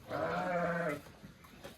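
A single drawn-out bleat from a ewe in a flock, fairly close, lasting about a second, followed by quiet background.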